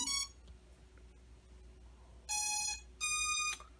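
MJX B12 EIS quadcopter ESCs beep on power-on: a short electronic tone, then two longer, loud pitched beeps in quick succession over a quiet background.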